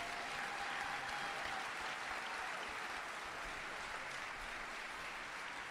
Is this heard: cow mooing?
no